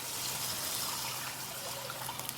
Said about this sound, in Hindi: मैं इसमें 7 कप्स ऑफ वाटर ऐड करूँगी